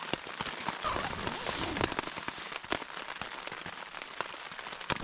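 Night rain in Killarney Provincial Park patters steadily on a tent or nearby surfaces, with scattered sharper drops ticking close by amid a soft continuous wash.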